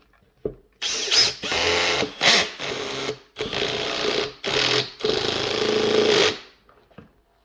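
A Makita 18V brushless hammer drill driving a screw into wood side grain on a low torque setting, several close bursts of motor whine with stops and restarts, ending as the clutch gives out.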